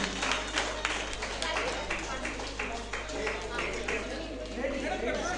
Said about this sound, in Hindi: ताली बजाइए जोर जोर से.